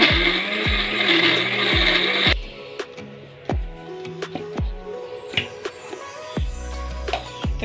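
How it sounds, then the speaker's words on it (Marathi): A mixer grinder grinds spices and coriander without water, whirring loudly for about two seconds. It then shifts into intermittent rattling and knocking as the jar contents settle and spin down, with scattered clunks continuing afterward. "तर आता हे सगळं मी मिक्सरला असं वाटून घेणार आहे."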